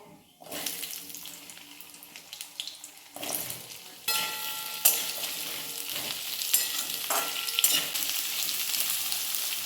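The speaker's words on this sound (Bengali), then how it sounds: "এবারে আলুগুলো ভেজে নেব" Potatoes frying in oil with bay leaves and panch phoron, a loud, close, bright sizzle that surges in bursts as pieces are added, with occasional clinks of a spatula.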